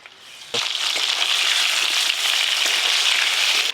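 Eggs frying in a pan with potatoes, a steady loud sizzle that starts abruptly and holds throughout, close and alone with no voices.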